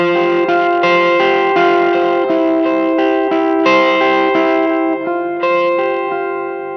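Electric guitar played through a Limetone Audio fuzzhog fuzz pedal into a reverb, loud sustained distorted chords and notes changing in steady succession with a lingering reverb tail.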